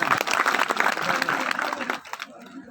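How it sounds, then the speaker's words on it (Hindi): An audience at a religious discourse gathering claps loudly and continuously for about two seconds, then the applause thins out and fades. "ताली बजाओ एक बार जरा।"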